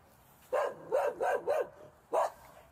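A dog barks five times nearby, four quick barks in a row followed by a pause and one final bark, with no other sound.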